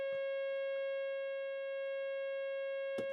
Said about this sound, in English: Put the diodes in. It square waves it.